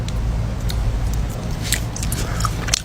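Frozen honey jelly being bitten and chewed close up, with soft squishy bites and a few sharper crunchy snaps over a low, steady background rumble.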